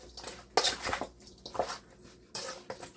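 Seasoned oxtail stirred in a pot, with a spoon scraping and clinking against the pot and wet, squishy meat sounds in short irregular strokes, close up and without talking.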